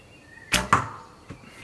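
Arrows shot from a bow in archery practice strike a target: two sharp, close thwacks in quick succession, then a fainter third impact a moment later, with no talk.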